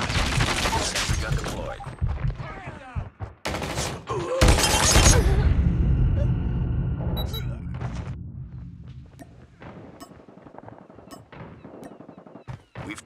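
Call of Duty Mobile gunfight with rapid bursts of automatic gunfire, sharp impacts and booms, loud and close, mixed with game announcer voice lines and in-game effects.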